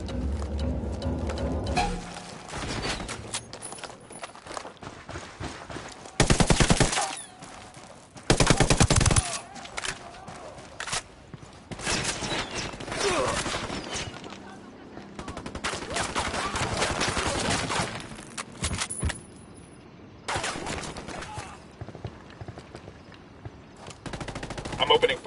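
Video game gunfire on a PS4, with loud bursts of automatic fire and dense volleys coming in irregular waves with short pauses between them, while a player talks over the action.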